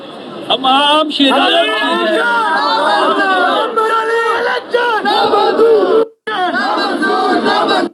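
A street crowd chants political slogans in unison, loud and close, with a raised leading voice and rhythmic massed response, continuing with brief breaks.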